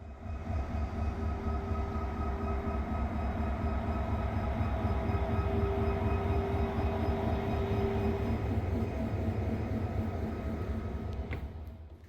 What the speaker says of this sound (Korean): 저는 9시 56분 교외선 열차를 탑승했습니다.